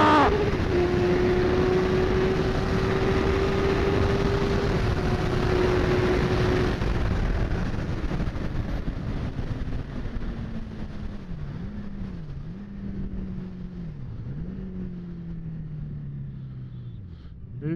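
Ducati motorcycle engine on a track day, a loud continuous high-revving drone held at the limiter, then wavering and dipping in pitch as revs drop, with wind rush throughout.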